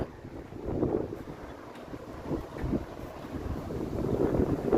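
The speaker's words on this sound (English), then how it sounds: "Another crazy sustained wind gust there." Strong sustained wind gusts buffet the microphone outdoors on a Toronto city street near High Park, a low rumbling roar that swells and surges throughout, loudest toward the end, with no voices.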